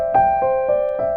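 Piano notes with the sustain pedal held down, four evenly spaced notes that ring on and overlap into one another, close and clear, with no talking.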